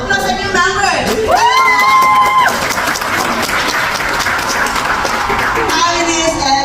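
Audience at an Ontario Filipino community club's Hawaiian-themed anniversary party applauding and cheering for newly inducted members, steady loud clapping with whoops and children's voices mixed in throughout.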